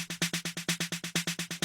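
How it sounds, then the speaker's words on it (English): Snare drum hits in a steady 16th-note roll with automated velocity, the strokes swelling and dipping in a march-like groove, loud and close with no voices. "So after we have the snare drawn in 16th notes, I might do something like this where I automate the velocity"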